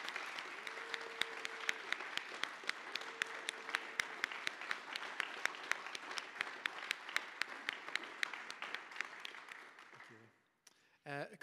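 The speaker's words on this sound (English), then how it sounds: "can I ask for one big final round of applause?" A final round of audience applause at an evening event, rhythmic distinct claps over a room-wide wash of clapping, fading out after about ten seconds as a voice begins.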